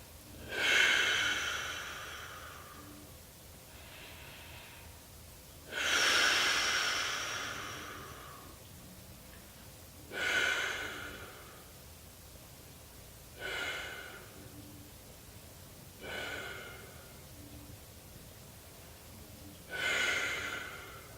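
Slow, deep breaths through the nose while holding a seated yoga twist. Six loud, airy breaths come a few seconds apart, each rising and then tapering off, with no talk.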